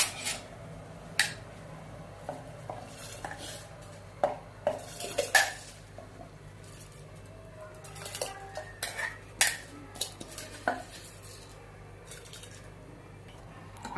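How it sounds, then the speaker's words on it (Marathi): Soaked rice stirred into a batter in a pressure cooker pot with a spoon, with baking soda added; repeated scraping and clinking of utensil against the pot, with soft wet squishing, close and moderately loud. "आपण ते सगळं आता हलवून घेऊया"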